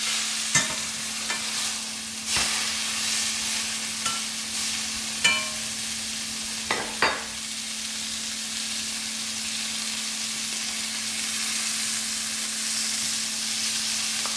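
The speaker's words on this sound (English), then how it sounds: "we're gonna flip this steak one time" Steaks searing in a pan just after being flipped give a steady broad sizzle, close and even, with a few sharp crackles and pops in the first seven seconds and a faint low hum underneath.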